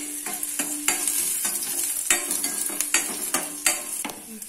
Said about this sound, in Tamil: எண்ணெய் காஞ்ச உடனே அதல நம்ம நறுக்கி வச்ச இஞ்சி இஞ்சி கொஞ்சம் வதக்கிங்க நல்லா வதக்கிங்க